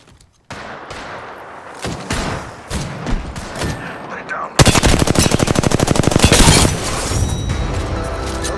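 Apex Legends firefight: scattered shots and impacts give way to a sustained, loud burst of rapid automatic fire, then continuing combat noise, with a voice talking faintly underneath.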